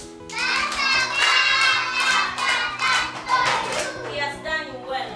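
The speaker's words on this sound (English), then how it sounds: "Can we clap for Marvin?" A class of nursery and primary schoolchildren clap together for a classmate, steady dense applause mixed with children's voices calling out, close and lively throughout.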